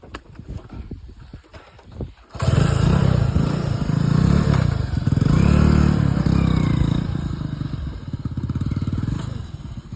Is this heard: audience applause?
no